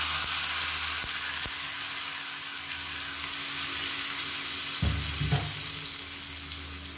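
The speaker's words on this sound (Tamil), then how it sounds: "அமர்த்திட்டு நம்ம அரைச்சி வச்சிருக்க சட்னியில் வந்து அப்படியே கொட்டிடலாம்" Hot spluttering tempering oil poured into ground green chutney, giving a steady close frying sizzle with a brief louder burst of crackling near the end.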